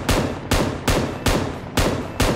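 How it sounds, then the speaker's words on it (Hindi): M249 machine gun in PUBG Mobile firing six loud, evenly spaced shots, each a sharp crack with a short decaying tail, with no voices. "तो मैं M249 से मारने की कोशिश करता हूँ"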